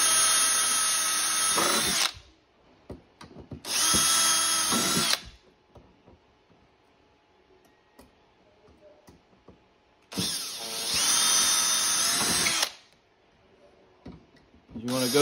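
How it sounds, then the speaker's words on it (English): A power drill with a small bit whines loudly in four separate bursts of a second or two each, boring pilot holes, with quieter gaps and faint handling noises between them. "just drill some pilot holes all the way through"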